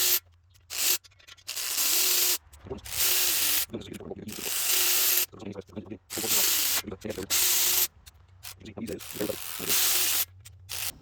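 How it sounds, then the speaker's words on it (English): Compressed air blasts into the bolt thread holes of an engine block being cleaned before assembly, in repeated loud hissing bursts of a second or two with short gaps and some handling noise between them. "we'll take and blow out all the threads, try and get it as clean as we can"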